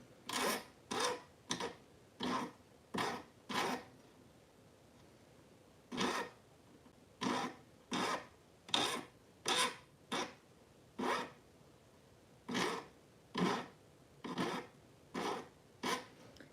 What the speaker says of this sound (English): Using the file to just ever so slightly round the end of that wire.